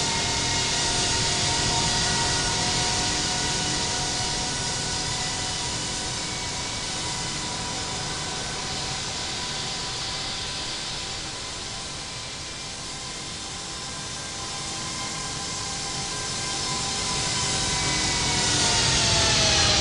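Jet engines of an airliner whine steadily while it taxis at London Heathrow in a flight simulator game. The hum is continuous and broadband, with faint tonal whines, and runs alone without talk for the full stretch.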